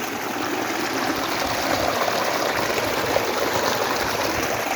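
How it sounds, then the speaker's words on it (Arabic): Rainwater runs steadily outdoors after a storm, a continuous broadband rushing like a stream, close and even, no talk over it. "كما كتشوفوا الخير موجود الماء"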